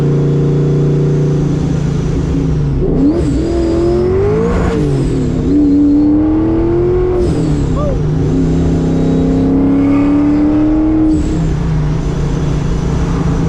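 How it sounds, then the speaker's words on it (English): A supercharged 1998 Mustang SVT Cobra (SN95) engine revs and surges, with sharp hissing whooshes of a blow-off valve between throttle blips, loud and close throughout. "Gotta love that blow off valve, baby. With the blower."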